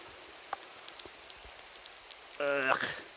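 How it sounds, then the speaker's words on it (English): Hail falls outside a moss debris shelter as soft, scattered pattering ticks, steady and fairly faint, with a brief voice near the end. "Oh, it was hailing."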